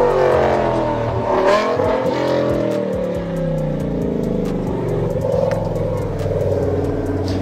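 A BMW M6 with a Dinan-tuned V10 engine accelerates hard, its loud rising engine note climbing through the gears with a gear change, heard close and continuous throughout.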